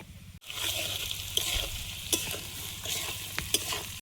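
Potatoes fry in a pan with a steady close sizzle while a spatula stirs and scrapes through them in occasional sharper knocks, continuous and without talk.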